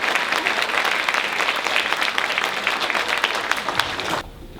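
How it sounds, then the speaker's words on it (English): An audience at a small-town dogwood beauty pageant claps for the contestants, a dense, loud, steady burst of applause that cuts off abruptly near the end. "So one more round of applause for them,"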